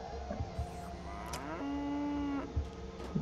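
A cow in the video game Goat Simulator gives one long, clear moo, rising and holding near the middle, set against a steady game background with a few soft thumps.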